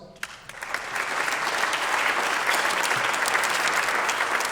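An audience at the Merrimack Valley Chamber small business awards gives a round of applause, starting with a few sharp claps and quickly swelling into steady, dense clapping.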